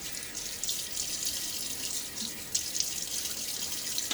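Bathroom tap running steadily into a sink while a face is wetted before a shave, a soft continuous splashing stream at close range with small surges, no talking.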